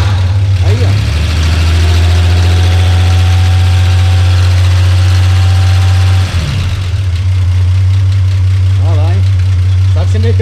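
Idling engine of a classic Chevrolet Opala in original condition with a manual choke, a steady low drone running throughout at close range, with people talking over it.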